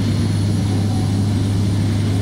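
A Cessna 206 floatplane engine drones steadily in simulated flight, a loud, constant propeller hum with a strong low tone and no change in pitch, heard alone.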